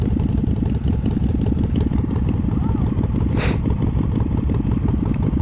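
A Harley-Davidson FXLR 1200 motorcycle engine rumbles steadily and loudly up close, a continuous low throbbing idle with a rhythmic chug running through the whole stretch.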